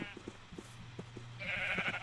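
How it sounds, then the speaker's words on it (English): Sheep bleat in Minecraft, several short, faint bleats scattered across the moment, the last one higher and more drawn out, with no talking over them. "bringing these sheep down is hilarious"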